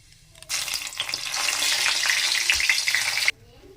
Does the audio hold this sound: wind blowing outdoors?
no